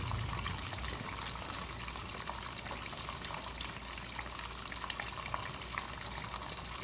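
Coolant drains steadily from a 2013 Honda Goldwing F6B motorcycle during a coolant change, a constant close trickling and splashing of liquid that runs unbroken throughout with no talking.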